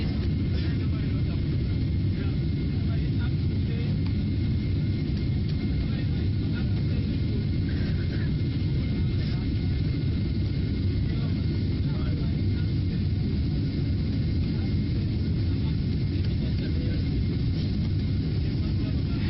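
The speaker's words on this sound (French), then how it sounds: "Ça y est, notre avion décolle." Airliner departing Jeddah on its takeoff roll: a steady loud low engine roar fills the cabin throughout, with a constant muffled rumble and no distinct changes.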